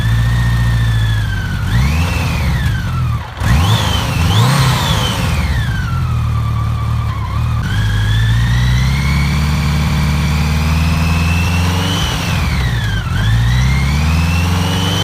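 A BMW K1600GTL motorcycle's six-cylinder engine idles and is revved repeatedly, its smooth hum rising and falling in several loud sweeps close by, with no talking.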